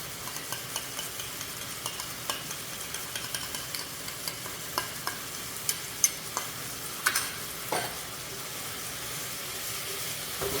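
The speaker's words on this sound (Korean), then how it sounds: "웍을 흔들어서 이렇게 볶아주죠" Meat and sauce stir-fried in a wok that is shaken by hand: a soft, continuous sizzle with repeated scraping and tossing clatters in an uneven rhythm, fairly quiet and close.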